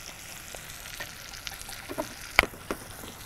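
Butter frying in a pan for fish soup, a faint steady sizzle broken by a few sharp clicks and small pops, heard alone without talk.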